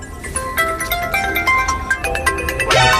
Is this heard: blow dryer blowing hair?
no